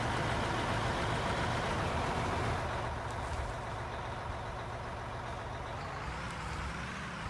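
A truck engine idles in the mining video game Out of Ore, a faint, steady low rumble with a dense mechanical drone that softens slightly partway through, with no talking.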